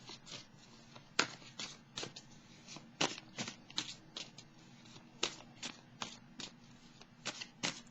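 Tarot cards shuffled and drawn during a reading: a quick run of crisp riffling snaps and slaps, close and fairly loud, repeating at an uneven rhythm with no voices over them.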